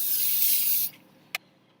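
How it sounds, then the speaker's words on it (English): Canola oil cooking spray hisses steadily for just under a second from a can aimed at a heated skillet, then cuts off, followed by a brief click. "I'm gonna grab my cooking spray, canola oil cooking spray, and I'm gonna spray around 2 seconds"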